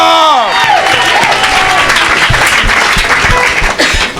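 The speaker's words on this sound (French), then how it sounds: "Acclame." A church congregation at an evangelistic service bursts into loud, sustained applause mixed with crowd noise and cheering, and a voice calls out briefly at the start.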